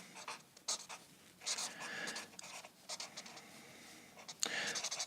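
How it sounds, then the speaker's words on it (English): A pen scratching across paper in short strokes and scribbles, close and fairly quiet, with pauses between bursts and a soft breathy voice faintly underneath. "So I'll write it there."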